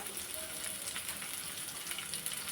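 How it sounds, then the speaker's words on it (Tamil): Onion and garlic sauté in a hot pan for a chutney, giving a steady, dense sizzle that stays even and close throughout with no talking. "வெங்காயம் பூண்டு நல்லா வதங்கட்டும்."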